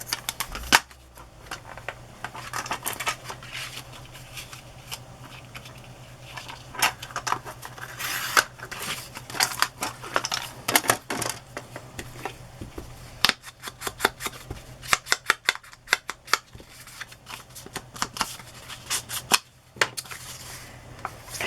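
Scissors cut along the edge of stamped paper at a craft table, a close series of crisp snips and paper rustles in irregular rhythm, with no talk.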